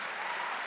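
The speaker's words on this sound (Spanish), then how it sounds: "les pido un fuerte aplauso para mi querido" Audience applause at a youth peace conference, dense steady clapping from a crowd, loud and continuous throughout.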